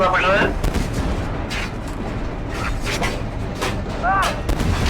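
Cannon fire and gunfire from Leopard 2A4 tanks repelling an attack, heard as repeated sharp booming blasts amid continuous battlefield noise, with radio-like chatter and voices over the top.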